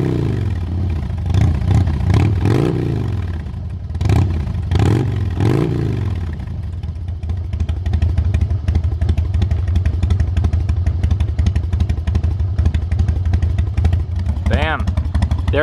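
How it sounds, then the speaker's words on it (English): A 1999 Harley-Davidson FXD Dyna Super Glide, choke off, is revved several times in loud close bursts before settling into a lumpy, clattering idle, with a voice briefly over it. "Let's drop the choke and see if we can give a couple revs here without killing it."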